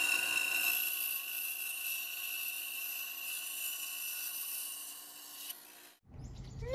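An Einhell TC-SB 200 benchtop band saw slices through peroba rosa wood with a steady, loud high whine for about six seconds, then cuts out abruptly, leaving a brief different noise at the end.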